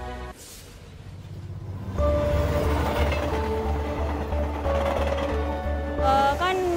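A passenger train on Sulawesi's first railway runs along the rails with a steady low rumble that grows louder partway through, and brief tonal squeals and hums rise over the rolling noise.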